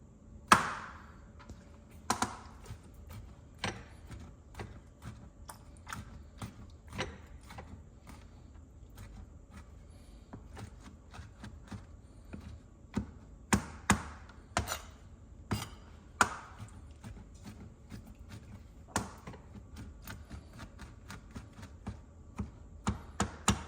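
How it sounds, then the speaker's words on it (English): A knife chops a jalapeño on a cutting board in sharp, irregular knocks, some singly and some in quick clusters, close and crisp against a quiet kitchen background. "So I'm just gonna cut it right there and just quick"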